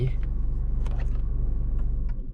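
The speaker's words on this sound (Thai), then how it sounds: "แล้วเครื่องยนต์ก็ดับแล้ว" A Peugeot 2008 B-SUV engine idles with a steady low rumble and a few faint clicks, then cuts off and falls quiet near the end.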